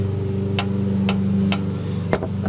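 A hammer strikes vise grips clamped onto a Volvo 850/S70/V70 tie rod, giving about five sharp metallic clinks spaced roughly half a second apart over a low steady hum.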